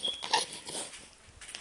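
A dog whimpers and gives short, high yips, a few quick, fairly faint cries close by, fading toward the end.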